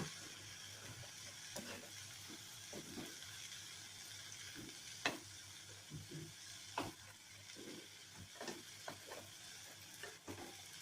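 Water spinach (kalmi greens) frying in a pan gives a quiet, steady sizzle, broken by repeated scraping stirs at an irregular pace, close up and faint.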